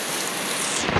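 Heavy rain pours down steadily in a dense, broadband hiss with a low rumble underneath, loud and continuous through the whole short stretch, with no voices.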